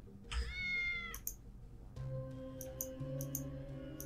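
Cats in the video game Tales of the Neon Sea let out a clear, drawn-out meow, then more short mewing calls over a soft, humming game soundtrack.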